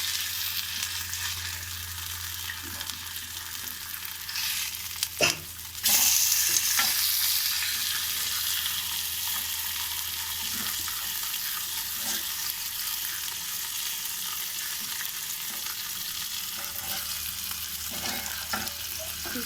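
Fish frying in a pan, a steady close sizzle running throughout with occasional stirring and turning clatters, one louder burst near the middle, no talking.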